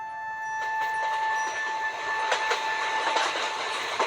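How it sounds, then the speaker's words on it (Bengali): Train running, with a steady broadband rumble, a continuous tonal whine and periodic clicking rail joints passing close by, loud and without speech. "স্টেশনে আসতেই ট্রেনটা পেয়ে গেলাম"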